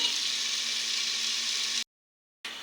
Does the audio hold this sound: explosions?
no